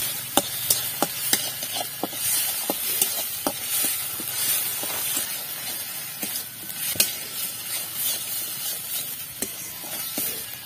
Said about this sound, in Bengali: এবার এই সমস্ত মশলাটাকে খুব ভালোভাবে কষে নিচ্ছি।